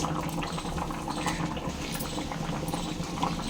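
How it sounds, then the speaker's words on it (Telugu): A pot of tamarind and bottle gourd stew bubbles and simmers steadily, a dense continuous burble of boiling liquid close by, with no talking. "పులుసు అయితే ఇలా మరుగుతుంది కదండి"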